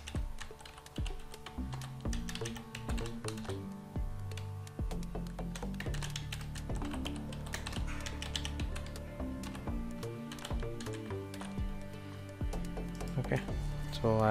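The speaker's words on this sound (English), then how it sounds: "So I have retyped the password" Keystrokes from a computer keyboard as a password is typed, a steady run of clicky taps over roughly fourteen seconds, heard up close beneath someone speaking.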